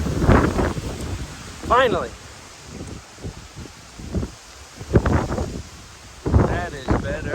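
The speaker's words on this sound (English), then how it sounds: "It's quite windy, so I don't know how well you'll hear this" Strong gusts buffet the microphone with deep rumbling bursts at Black Rock Mountain Viewpoint on the Appalachian Trail, while a person speaks briefly between the blasts.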